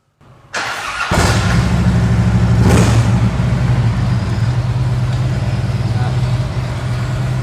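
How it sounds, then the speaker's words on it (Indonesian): A 2011 Harley-Davidson Street Glide touring motorcycle fires up after a moment of silence, then gives two sharp throttle blips before dropping into a loud, deep, loping idle, close up, engine and exhaust together. "Sekarang mungkin coba kita nyalain ya, yang pingin denger suaranya, karena Harley ini khasnya di suara mesinnya atau suara knalpotnya."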